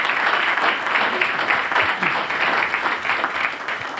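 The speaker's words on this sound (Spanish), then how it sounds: "Un aplauso, por favor, para él." Studio audience on a Chilean television interview program applauds to welcome the guest, a steady dense clapping wash lasting throughout with a host's voice faintly underneath.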